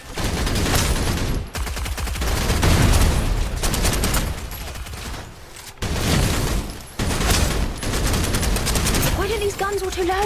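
Gunfire in the shooter game Snowbreak, dense and loud rapid bursts with short breaks, crackling continuously almost the whole way through with no voice over it.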